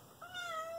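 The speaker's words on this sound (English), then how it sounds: "He's purring. I don't know if you can hear him purring." A domestic cat meows in a short rising call, close and fairly clear. A steady soft purr may sit underneath, but it is not distinct.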